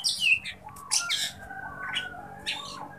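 A kacer, or magpie-robin, calls while sunbathing, giving loud, clear chirps and whistled phrases in short bursts separated by brief pauses, close up with no talking.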